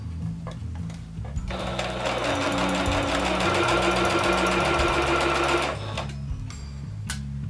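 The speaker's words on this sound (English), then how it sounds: "I'm just gonna sew straight." Sewing machine stitching a straight seam on doll clothes, a close steady whirring hum lasting several seconds with faint clicks before and after, no speech over it.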